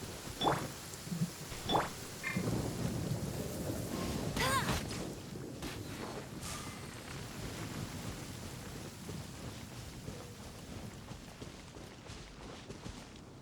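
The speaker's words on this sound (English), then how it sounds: "Quite a downpour. Nothing will get done until it clears." Steady heavy rain hisses throughout in Genshin Impact, with a few soft rumbles and faint knocks early on, fairly quiet overall.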